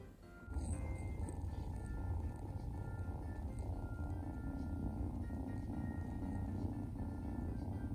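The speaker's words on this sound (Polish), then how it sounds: "Słyszycie? Jakie dźwięki wydaje, jak mruczy." A cat purrs up close in a low, continuous rumble with a faint rhythmic flutter, steady throughout after a brief quiet start.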